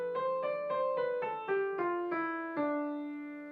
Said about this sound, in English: Over that, I'm going to play actually a D Dorian scale